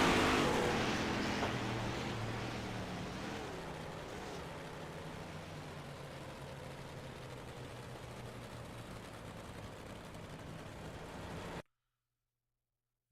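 Race cars in an Old Timers Tuesday heat race take turns 3 and 4 to the finish, a loud engine roar that fades to a steady distant drone before cutting off, with no talk.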